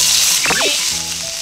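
Sake poured into a pan of fried thick tofu (atsuage) sets off a loud, close sizzle across the whole moment, with a brief rising metallic squeak partway through.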